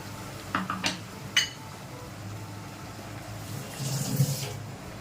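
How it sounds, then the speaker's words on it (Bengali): A small splash of water swished in a paste bowl and poured into a pot of onion-free mutton curry, with a couple of brief clinks of the bowl against metal, then a soft trickle. "সামান্য একটু জল দিয়ে বাটিটা ধুয়ে দেবো"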